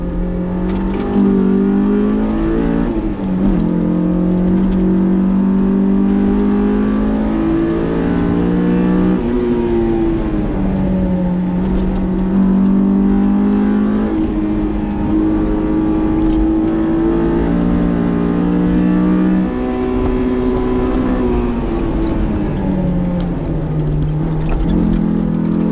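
A stock Honda S2000 on a race track: the engine revs hard and climbs into VTEC with a rising, buzzy howl, dips on shifts and lifts, then pulls up again, loud and continuous from inside the car.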